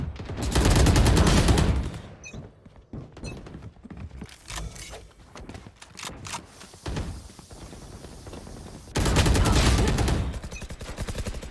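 Gunfire in Valorant comes as loud sustained bursts at the start and near the end, with scattered single shots, thuds and footsteps in between.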